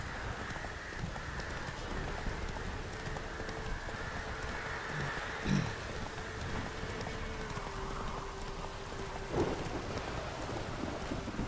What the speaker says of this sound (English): hay una tempestad fuerte y furiosa